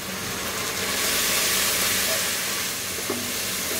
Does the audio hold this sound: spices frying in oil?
yes